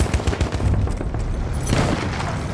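Rapid Lewis gun machine gun fire in a video game battle on the Volga river, a loud continuous rattling burst with booming impacts, with no talk.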